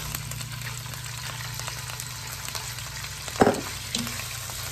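Shrimp hitting a hot pan for pad thai, a steady broadband sizzle with occasional stirring scrapes and a brief louder burst near the end, close and continuous without voices.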